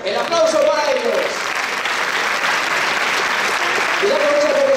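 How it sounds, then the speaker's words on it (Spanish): A crowd applauds a couple celebrating their golden wedding anniversary at a Valentine's event, dense clapping throughout, with a voice speaking over it at the start and again near the end. "El aplauso para ellos"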